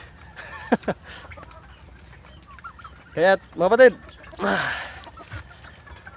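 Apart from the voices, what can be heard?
turkeys clucking on an azolla farm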